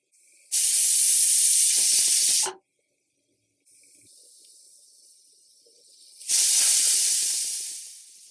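A pressure cooker boiling vegetables over a medium flame lets off two loud, sharp whistling bursts of steam, each a few seconds long. A quieter hiss runs between them and the second burst fades out slowly.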